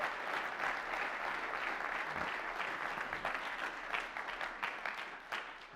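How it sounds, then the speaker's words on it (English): Steady audience applause fills a summit hall honoring a faculty team, dense and sustained, loosening into scattered individual claps toward the end. "please, round of applause for him and for the rest of the team"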